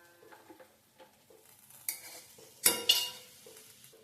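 A metal ladle stirs and scoops sautéed eggplant for a traditional theeyal curry in a pan, with soft scraping, a few sharper clinks against the pan, and a faint sizzle underneath.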